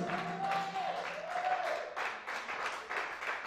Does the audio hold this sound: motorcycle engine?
no